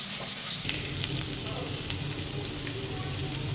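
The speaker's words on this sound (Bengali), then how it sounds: "করলা ভাজা হচ্ছে পেঁয়াজ দিয়ে দিয়েছি" Bitter gourd frying with onion in a pan gives a soft, continuous sizzle that thickens after a brief moment, with faint scraping from stirring beneath it.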